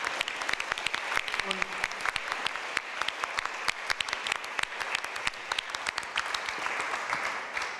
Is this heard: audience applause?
yes